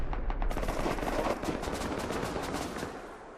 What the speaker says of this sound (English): Listen to all those gunshots.